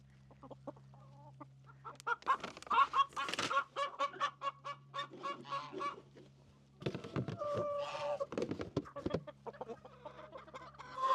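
Farm chickens in a coop cluck and chatter in repeated bursts, fairly close, with a steady low hum underneath.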